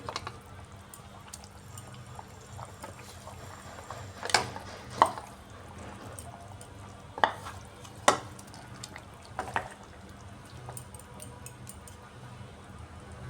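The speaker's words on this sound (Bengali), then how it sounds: "এবার আমি এর মধ্যে বেঁচে রাখা মাছ দিয়ে দিচ্ছি" Pieces of fried rohu fish go into a simmering cauliflower and potato curry, with soft stirring and bubbling under a few sharp clacks of a spoon or ladle against the pan, close and otherwise quiet.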